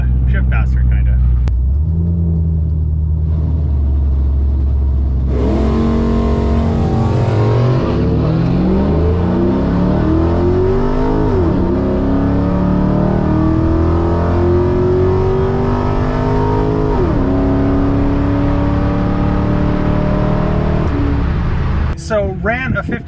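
A 500 hp Pontiac GTO roars hard down a drag strip, engine pitch climbing and dropping through slow gear shifts, loud and close throughout, with brief voices at the start and end.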